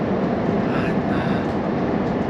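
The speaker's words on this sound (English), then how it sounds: "I'm on the train now, heading to Santiago" Interior of a moving RENFE train between La Coruña and Santiago de Compostela, a steady low rolling rumble with faint rattling, a voice briefly audible over it.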